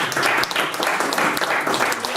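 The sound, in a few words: audience applause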